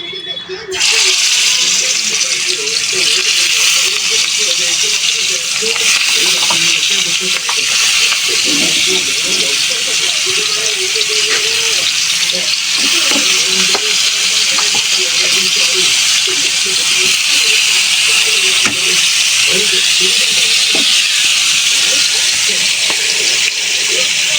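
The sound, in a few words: fish frying in hot oil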